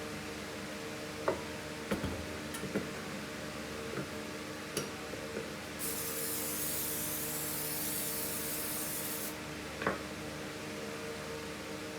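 A long hissing spray onto a Bundt cake pan runs for several seconds amid a steady hum, with a few sharp ticks and knocks before and after.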